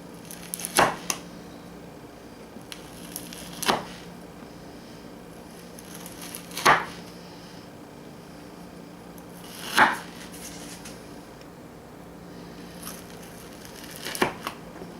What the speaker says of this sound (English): And just cut them up any way you want